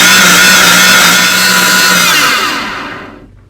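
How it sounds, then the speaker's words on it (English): A blender runs loud and steady, puréeing morita chiles with liquid for adobo, a continuous high whir that holds for over two seconds and then winds down to silence. "Once I have everything in my blender, then let's go ahead and blend it completely."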